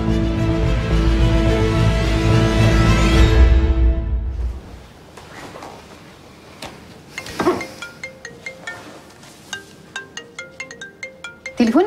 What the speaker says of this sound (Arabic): تليفونك بيرن.